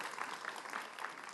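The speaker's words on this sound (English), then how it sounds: "Another round of applause." Audience applause at a Calgary Ward 7 municipal candidates' debate in Montgomery, a steady, dense patter of many hands clapping in a hall, moderately distant and fairly even throughout.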